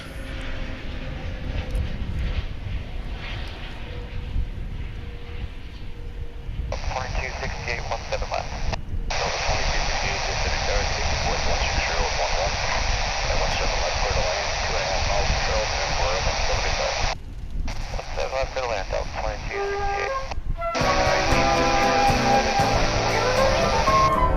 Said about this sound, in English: Here comes a Frontier flight.